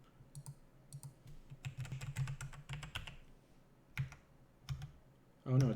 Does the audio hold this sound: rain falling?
no